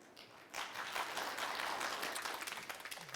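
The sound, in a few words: applause from the audience in the hall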